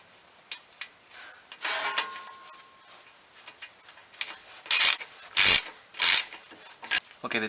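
A ratchet tightening the rear differential fill plug on a Ford F-150, giving bursts of rapid clicking, a few short ones and then several louder strokes, close and clear, with no talk.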